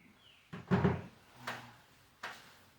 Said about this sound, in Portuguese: feche a porta